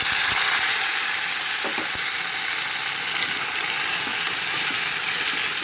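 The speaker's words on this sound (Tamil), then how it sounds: "இதில் வந்துட்டு நம்ம வெங்காயம் தக்காளி எல்லாம் சேர்த்துக்குவோம்" Onions and tomatoes frying in a pan for a Tamil fish curry, giving a dense, loud, unbroken sizzle with a few faint knocks underneath.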